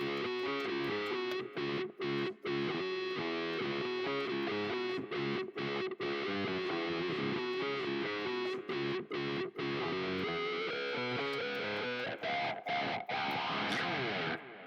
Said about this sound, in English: I've got the wah pedal kind of pulled backwards, so you get this really cool bassy sound